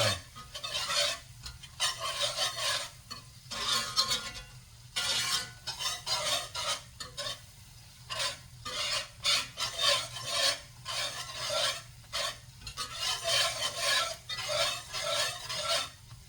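Homemade gravy is stirred in a pan with a utensil, making close, rhythmic rasping scrapes in repeated bursts with short pauses between strokes, and no voices.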